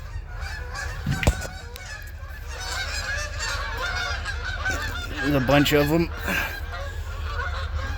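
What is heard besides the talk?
geese honking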